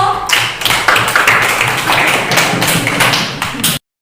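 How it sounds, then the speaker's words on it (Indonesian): A group of people at a school coaching session claps together in a dense, loud burst of continuous hand clapping that runs for about four seconds and then stops abruptly. "terima kasih semua, tepuk tangan dulu."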